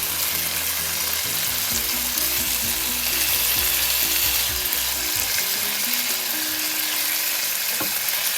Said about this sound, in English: we're going to allow it to fry on medium heat